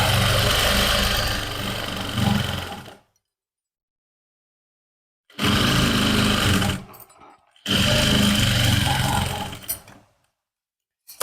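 A sewing machine stitches a seam onto trouser fabric over a pocket, running in three loud close bursts separated by short silent pauses.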